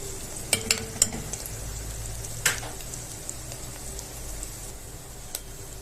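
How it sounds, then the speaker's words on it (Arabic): Onion frying in a pan as garlic is added, a steady soft sizzle with a few sharp clinks and scrapes of a utensil early on, no voices. "البصلة بدأت ان هي تلون اهي، نحط لها بقى الثوم"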